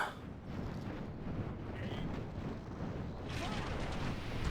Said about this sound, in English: fire on those miners there. Just give them a couple of volleys